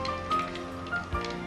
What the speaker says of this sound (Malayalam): കടുക് പൊട്ടിക്കഴിയുമ്പോൾ